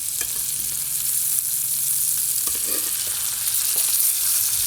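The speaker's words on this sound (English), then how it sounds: "Now the last thing I'm gonna do is flip those steaks back over." Frozen top sirloin steaks sizzling in a hot pan, a continuous loud hissing fry with faint clicks as the meat is turned, no talking.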